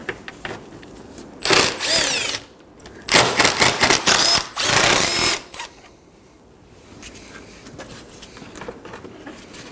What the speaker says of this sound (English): Now we can remove the 4 8mm bolts holding the fans to the radiator.